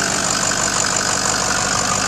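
A 2006 Ford F-350 Lariat King Ranch with a 6.0 liter Power Stroke V8 turbo diesel idles steadily and loudly nearby, a constant rumble with a faint knocking texture and no voices.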